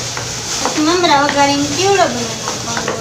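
Peanuts frying in oil for a chevdo snack, a continuous sizzle with stirring, running beneath a person talking close by.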